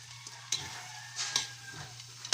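Monitor lizard meat frying in a pan, a steady close sizzle with a few sharp crackles and pops spaced through it.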